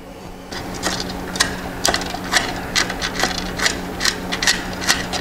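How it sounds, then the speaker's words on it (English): A small quarter-inch ratchet tightens an 11 millimeter bolt on a bagger motorcycle, a run of quick close clicks in uneven bursts over a low steady hum, with no talking. "I like to use a 1/4 inch because you can use a small ratchet and get in there"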